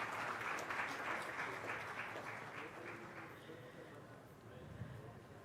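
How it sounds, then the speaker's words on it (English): Applause from a convention audience welcoming guests onto a stage at a national management event, a soft, distant, steady patter that fades gradually toward the end. "please join me in extending a warm round of applause and welcoming them all to the"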